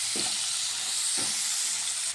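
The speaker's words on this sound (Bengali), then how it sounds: "একটু নাড়াচাড়া করে নেব।" Potatoes and tomatoes fry in a pan under a constant bright sizzle, while two or three scraping strokes of a spoon stir them at roughly one-second intervals.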